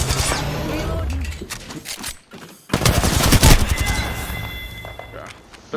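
Rapid automatic gunfire in the shooter game Apex Legends, dense loud bursts of shots that pause briefly then resume in a heavy volley, with a voice speaking over it.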